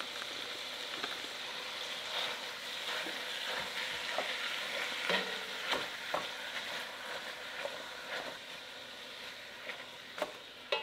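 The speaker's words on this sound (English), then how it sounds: "we're going to take our ground beef and our pork, and we're going to put that in here, and we're going to cook that up" Ground beef and pork brown in a pan with a steady, moderate sizzle and crackle. Spatula taps and scrapes recur at intervals throughout, and no voice is heard.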